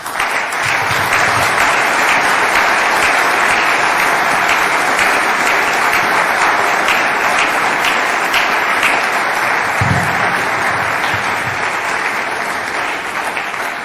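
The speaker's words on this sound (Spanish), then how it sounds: "por ellos pido un cariñoso aplauso" Sustained applause from a large crowd, steady and loud throughout, with dense clapping filling the whole stretch.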